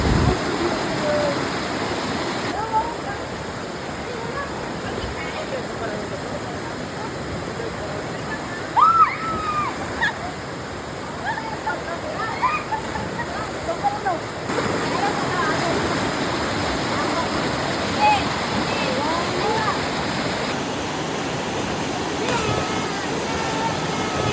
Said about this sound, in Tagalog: Basak Falls is a must visit kung gusto mong nature trip